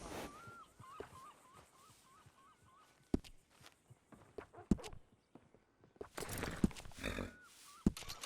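A horse in the Red Dead Redemption 2 video game gives a clear, wavering neigh, followed by several sharp hoof thuds and clops. The sounds are spaced out and come over faint ambient background noise, with another whinny near the end.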